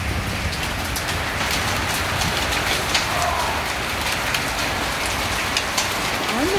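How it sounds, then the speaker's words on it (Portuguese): Heavy hailstorm with dense rain and hail pounding down in Ribeirão Preto, a steady, loud, unbroken roar of drops striking surfaces, with faint distant rumbles underneath. "Tanto que tá chovendo, minha nossa."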